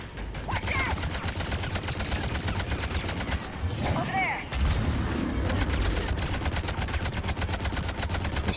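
Sustained automatic gunfire in Mass Effect 3 rattles loudly and steadily, with a short lull midway before the firing picks up again even harder.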